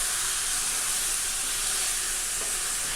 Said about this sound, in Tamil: சிக்கன் வந்துட்டு ஆயிலில் நல்லா ஃப்ரை பண்ணி எடுத்துக்கணும்